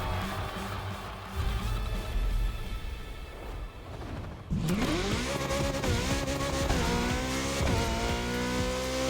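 A car in The Crew Motorfest racing game drifts through a gymkhana run, its engine revving hard while the tires squeal in long, rising and falling skids. The sound is loud and continuous, with a sharp burst of tire noise midway and no voices.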